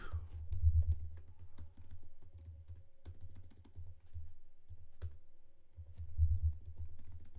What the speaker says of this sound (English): I cannot type the word Psyshock, apparently.